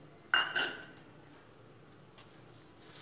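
Dry paan mukhwas mix tipped into a bowl, a brief bright clatter and rattle of small seeds and bits hitting the dish, then a second shorter clink, with quiet room tone between.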